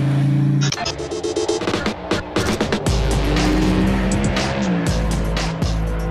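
A 1972 De Tomaso Pantera at speed on a professional racetrack, its loud engine roaring continuously with a sustained low drone and shifting pitch, tire noise mixed in throughout.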